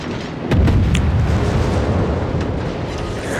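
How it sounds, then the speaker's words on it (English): A naval gun fires armor-piercing shells in World of Warships: one deep, loud boom lands about half a second in, then a long rumbling roar rolls on steadily with no talking. "So I switched to AP, and I'm gonna try to shoot at his broadside"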